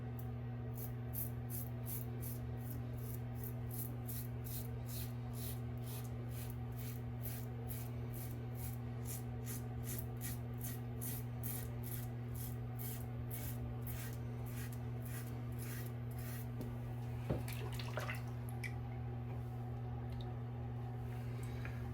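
A razor mows through five days of stubble over a fresh lather of Catie's Bubbles shave soap, making a steady run of close, rhythmic scraping strokes under a constant low hum, with no talking.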